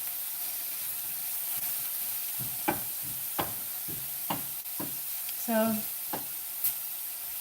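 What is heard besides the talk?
sauteing food in a frying pan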